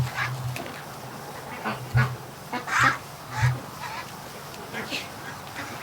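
Several ducks quack in short, scattered calls at moderate distance over a quiet outdoor background, with a few louder honks standing out.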